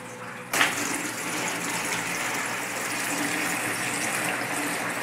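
Aquarium water siphoned by gravity through a hose into a PET bottle, a sudden onset followed by a steady rushing, gushing flow that stays constant and close throughout.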